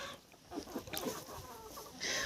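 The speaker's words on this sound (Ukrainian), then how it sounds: "І ще так само одного півника бентамочку забрав оцей підписник." A bantam rooster on a small farm clucks in short, close bursts over roughly two seconds, with a sharper call near the end.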